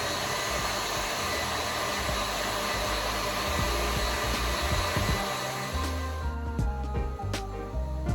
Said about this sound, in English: We're gonna whisk this in high speed for at least 3 minutes